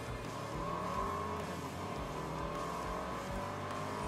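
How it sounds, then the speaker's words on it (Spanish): A 265-horsepower Porsche Macan SUV under full-throttle acceleration in a 0 to 100 km/h run, engine note droning steadily and rising from inside the cabin, with no speech. "voy a hacer una prueba de aceleración, el 0 a 100 en este Porsche Macan. Paramos, aceleramos a fondo,"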